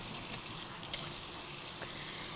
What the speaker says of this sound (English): Let me just, I'll rinse my little fingers here.